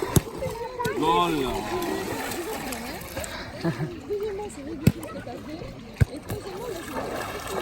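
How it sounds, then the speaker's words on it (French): Water splashes and ripples at a swimming pool on a hot day, with scattered sharp slaps and trickling under near, continuous talk. "Nous sommes à la piscine."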